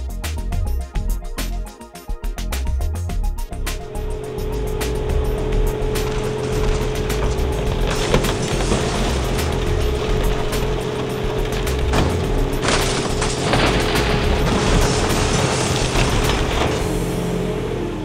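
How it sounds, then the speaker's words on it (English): A mobile car smasher crushes a drained scrap car at an SA Recycling yard, giving a steady loud mechanical rumble with a low hum and crunching, banging bursts throughout, with no talk. "then we place it onto the mobile car smasher"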